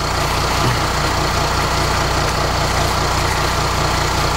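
A Mercedes 320 CDI V6 diesel runs at a steady idle, a loud, even low rumble droning without change throughout.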